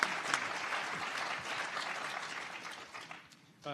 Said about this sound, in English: So please give a round of applause to our distinguished panelists.